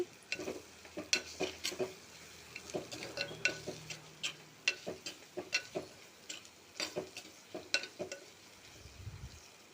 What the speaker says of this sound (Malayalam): എല്ലാം സെയിം അളവിൽ തന്നെയാണ് മുളക് പൊടി മല്ലിപ്പൊടി ഞാൻ എടുത്തിരിക്കുന്നത് അത് നന്നായിട്ടൊന്ന് ഇളക്കി കൊടുക്കാം